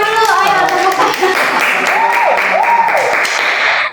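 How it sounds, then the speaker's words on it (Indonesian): A group claps hands at an Indonesian podcast recording, a dense patter of applause lasting several seconds with voices and cheering mixed in over it. "tangan dulu, ayo tepuk tangan."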